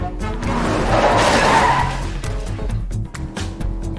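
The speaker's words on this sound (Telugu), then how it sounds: "ఇప్పుడు బ్రేక్ వేస్తున్నాను" Cartoon car braking hard and skidding, a loud screeching tire squeal that swells and then fades over a rumbling engine, with scattered clunks afterward and no speech.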